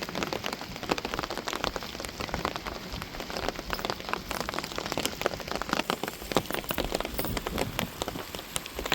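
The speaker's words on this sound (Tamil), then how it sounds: "மழை வந்துருச்சு" Steady heavy rain at night pattering on surfaces close by, dense and continuous with many sharp drops, no voices.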